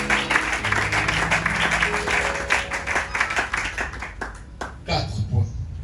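A church congregation applauds during a sermon, with several seconds of dense, sustained clapping that fades out, followed by a brief pause and a little movement noise.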